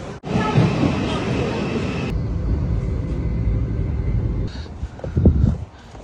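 A National Rail train pulls into a UK station with a loud, steady rumble and roar that swells and then eases near the end, with a brief voice speaking at the end.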